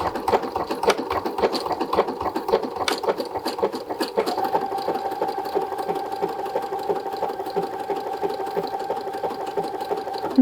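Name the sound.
sewing machine stitching fabric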